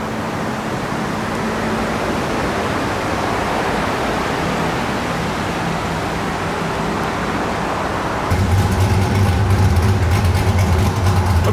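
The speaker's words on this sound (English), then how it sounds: "Let's see what this little 35th anniversary SS does on the old dyno here." A stock 35th anniversary Camaro SS runs on a dyno, giving a loud, steady broadband roar for about eight seconds before it abruptly shifts to a deeper, heavier drone with no talk over it.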